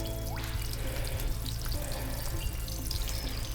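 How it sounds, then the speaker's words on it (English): Water runs steadily from the tap of a water tank beside a mountain hiking trail, a close, continuous splashing and trickling with no talk. "There's water."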